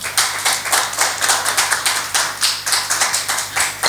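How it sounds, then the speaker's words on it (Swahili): A church congregation claps together in a steady, rhythmic beat, sharp hand claps repeating about four times a second, loud and close, with no voices over it. "Mpigie Bwana Yesu makofi"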